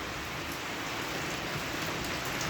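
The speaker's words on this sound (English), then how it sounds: "it's bucketing down with rain and thunder and lightning all around us." Heavy rain pours steadily during a thunderstorm in Uganda, a dense, even hiss of drops drumming on surfaces with no pause. No thunder clap stands out, and no one speaks.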